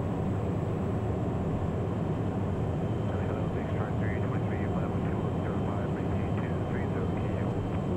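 Continuous loud jet engine roar from a 2010 Cessna Citation Mustang in flight, a steady broadband rush with no breaks.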